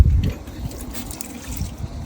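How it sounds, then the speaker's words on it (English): Water trickles and dribbles out from a loosened nut on a domestic boiler pump, a brief close liquid splash and drip lasting a couple of seconds, with a soft knock at the start. "a bit of water's going to pee out, not much"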